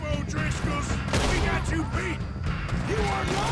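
Rapid gunfire crackles during a hunt in Red Dead Redemption 2, a dense burst of overlapping shots and impacts with excited talking over the top throughout.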